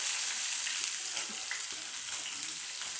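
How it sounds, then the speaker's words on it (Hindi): Chopped garlic cloves and green chillies fry in hot oil in a pan for a Matar Mogri curry, producing a steady, close hiss and sizzle with faint stirring scrapes and occasional pops. "और तो लहसुन को अच्छे से सेक लेंगे।"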